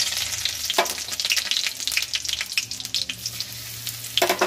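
Cumin seeds and dried chillies spluttering in hot oil, a dense crackling sizzle with rapid pops and a few louder bursts, close and steady with no talking.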